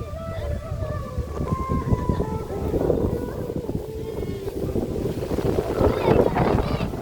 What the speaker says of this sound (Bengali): কি পরিমাণে হাওয়া হচ্ছে এখানে পুরো ঝড়ের মতো